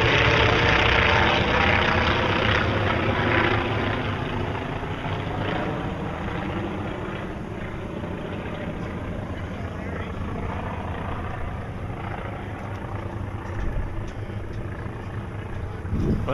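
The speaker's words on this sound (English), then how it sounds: "we're seeing some World War II fighters fly by" World War II fighter planes fly by at an air show near an airport, a continuous engine drone that is loudest at the start and slowly fades, heard from a sailboat with wind and some talk.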